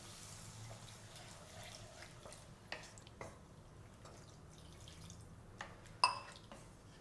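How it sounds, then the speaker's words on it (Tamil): Quiet pouring and dripping water into a pan of egg gravy, with a few small splashes and clinks near the end. "இப்போ நீங்கள் இது கூட தண்ணி சேர்த்துக்கோங்க."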